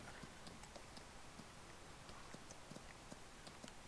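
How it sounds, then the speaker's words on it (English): Horse hooves galloping in Farming Simulator 19, a quiet, steady clip-clop of rapid hoofbeats repeating throughout, faint and without voices. "you can gallop the horses around"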